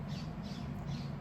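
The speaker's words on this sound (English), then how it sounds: "Sorry about the birds, by the way." Birds squawking in the background indoors, three faint, evenly spaced harsh calls over a steady low hum, distant and soft.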